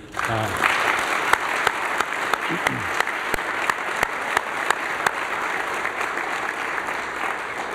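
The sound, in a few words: audience applause for award winners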